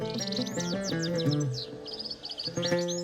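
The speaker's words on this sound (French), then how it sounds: "De tous les coins de rue d'Alger émane le chant mélodieux et délicat d'un oiseau, le chardonneret élégant" A European goldfinch sings on a street in Algiers: bright, rapid twittering phrases with trills and chirps, close and clear, continuing almost without pause over a steady low background.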